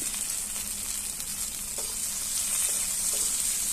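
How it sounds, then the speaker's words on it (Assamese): Steady oil sizzling and crackling as chopped elephant apple and potato fry in a pan, a dense hiss throughout with a few faint scrapes. "এয়া মই কুটি থোৱা ঔটেঙা আৰু আলু একেলগে তেলত দি দিছোঁ।"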